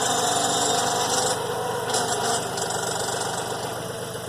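A tractor engine idles steadily at close range while the machine lifts, a constant mechanical drone with a slight rattle and a faint high whine, easing a little lower near the end.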